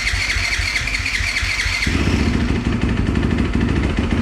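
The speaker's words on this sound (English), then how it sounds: "go ahead and start your bike" A Yamaha YZ250F four-stroke dirt bike engine runs close by, first with a higher revving tone, then settling into a loud, rapid, steady low idle putter.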